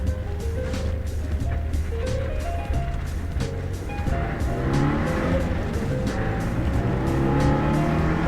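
A bone-stock 1983 Toyota Corolla fitted with a 3SGE engine runs steadily and loudly close by, its engine note droning continuously under mild road and wind noise on a mountain highway, with no talk.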